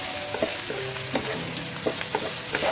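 Sliced heart and kidney frying with browned onions in a pan, a steady close sizzle with repeated sharp clicks and scrapes of a spoon stirring through it, no voices.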